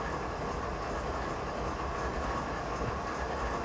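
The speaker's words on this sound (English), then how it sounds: "15 minutes waiting for the grain train" Grain freight train hauled by a Canadian Pacific ES44AC locomotive rolling steadily past in a Canadian mountain pass simulation, a continuous dense rumble and rattle of rail cars at constant loudness with no pauses or voices.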